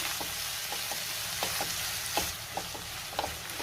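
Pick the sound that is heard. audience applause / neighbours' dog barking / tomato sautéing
tomato sautéing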